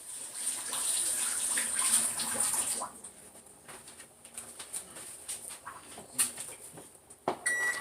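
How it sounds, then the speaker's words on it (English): Tap water runs and splashes steadily while hands are washed in a home kitchen during spaghetti sauce cooking, a continuous hiss for about three seconds before it stops, leaving quieter kitchen clatter and faint knocks. "let me just wash my hands really quick"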